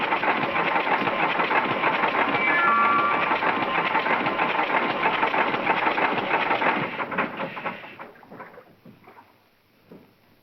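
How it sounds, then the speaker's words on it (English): A boat's engine runs steadily and loudly for about eight seconds, then cuts out and sputters into near silence with a few faint knocks at the end. "Keep that engine running."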